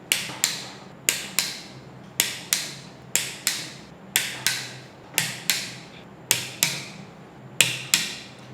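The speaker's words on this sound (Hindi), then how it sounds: "उसके बाद में 68 न्यूटन मीटर्स पर सारे बोल्ट्स को टॉर्क करना है" A torque wrench works on the cylinder head bolts of a Maruti Alto 800 engine during a rebuild, giving a steady series of sharp metallic clicks and ratchet strokes, regular and close, with no voices.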